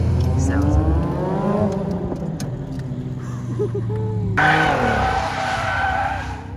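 All-wheel-drive car sliding on track with loud tire skid and squeal over a revving engine, sustained and close, with a sharper squeal burst near the end; a supercharger whine may sit in the engine note.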